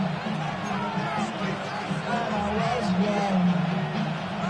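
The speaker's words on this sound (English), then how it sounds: "This crowd trying to be a factor, getting very loud now" A big stadium crowd roars steadily with a dense wash of voices and cheering, loud and sustained throughout, with some talk mixed in, late in the fourth quarter of a football game.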